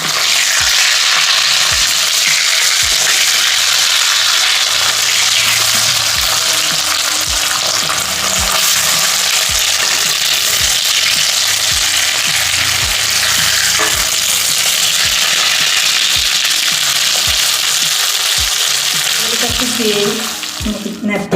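Mackerel frying in a pan over low heat, a loud steady sizzle and crackle running throughout, with occasional soft knocks and scrapes as the pieces are turned.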